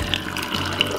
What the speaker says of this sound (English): we're gonna put some water in it.